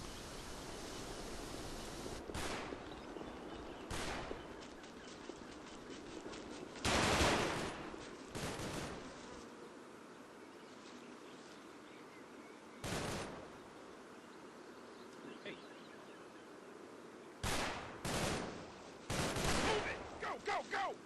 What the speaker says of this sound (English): Must be a heavy machine gun in that building.